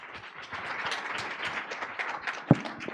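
Steady applause from a crowd, moderately loud and continuous, with one sharper thump near the end.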